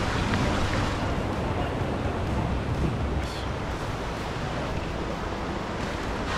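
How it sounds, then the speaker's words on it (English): A steady, hissing roar of falling water fills the air without a break, broad and constant like a nearby waterfall. "You can't be up here without seeing a waterfall"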